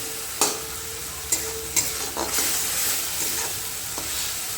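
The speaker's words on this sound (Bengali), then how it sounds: "তো এটা ভালো করে একটু ভেজে নেবো" Ginger sizzles in oil in a pan while a spoon stirs and scrapes, with a few sharp knocks against the metal.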